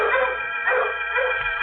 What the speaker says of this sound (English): the dogs outside set up a holler that raised goose pimples all over me